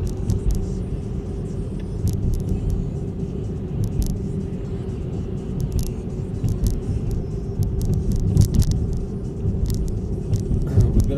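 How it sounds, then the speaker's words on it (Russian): Steady low car engine and road rumble from inside a car during a driving lesson in Khabarovsk, holding an even level with no voices over it. "И разгоняй автомобиль до 60."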